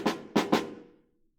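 Snare drum with the snare wires pressed against the bottom head, struck three times with sticks in a quick uneven pattern, each hit bright and crisp with a short buzzing decay, played alone and close.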